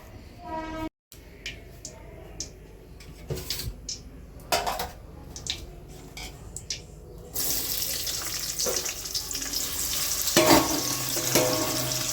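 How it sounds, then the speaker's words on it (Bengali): Running tap water pours steadily over flour-covered hands being washed in a home kitchen during chicken keema cooking. A few light knocks and clinks come first, then the full broadband gush of water continues to the end. "চলো আটা হাতটা ধুই।"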